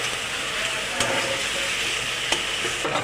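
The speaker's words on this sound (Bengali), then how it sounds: "নেড়ে চেড়ে মিশিয়ে নিয়েছি" A spoon stirs fried potatoes and chhana curry in a pan, giving a steady scraping, sizzling hiss with a few sharper clinks against the metal, close and alone without talk.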